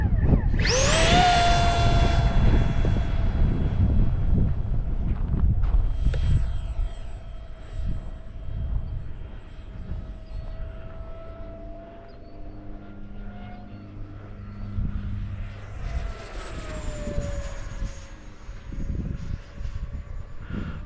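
A small propeller-driven F-22 model airplane whines loudly overhead in strong wind, its engine pitch rising and falling as it passes, with wind rumble buffeting underneath.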